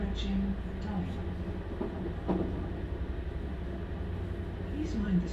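Class 755 bi-mode train running between Cambridge and Bury St Edmunds, heard from on board as a steady low rumble and drone with faint rail clatter, with voices and chatter over it.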